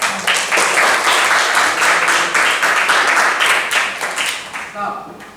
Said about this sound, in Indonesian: aplaus untuk Anda.